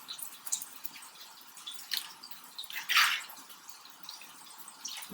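Oyster mushrooms washed under running water, giving a faint, close trickle and splashing with brief louder gushes, no talking.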